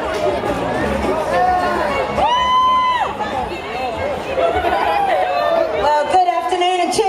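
A festival crowd at the Village Green Festival in Southend shouts, whoops and cheers for a band, with loud sustained yells rising over a dense, steady hubbub of open-air voices.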